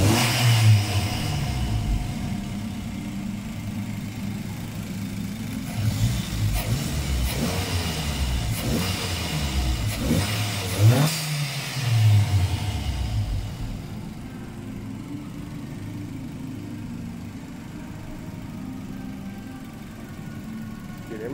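A modified Proton Savvy small car engine revs up and settles back repeatedly, a loud, close, continuous roar rising and falling in pitch with no talking.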